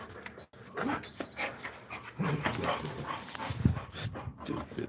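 A dog pants heavily and whimpers up close in steady, breathy bursts with occasional soft whines, continuing for about five seconds.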